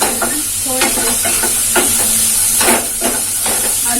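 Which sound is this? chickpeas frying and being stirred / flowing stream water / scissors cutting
chickpeas frying and being stirred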